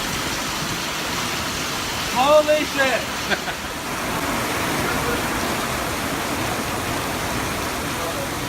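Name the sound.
rain falling outdoors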